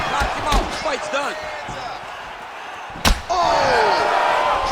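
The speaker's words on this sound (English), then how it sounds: "Massive kick to the head." A heavy kick to the head lands in the UFC 5 fighting game, one sharp loud slam cutting through crowd noise and excited commentary.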